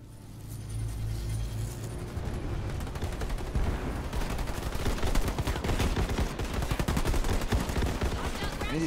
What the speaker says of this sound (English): Jerome, under fire from ground troops.